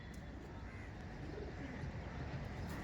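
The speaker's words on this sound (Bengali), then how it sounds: "এটা হচ্ছে মাদি পায়রা" Old-line Rajasthani giribaz pigeons, including a hen, coo softly in a low, continuous murmur beneath steady background noise, faint and unbroken.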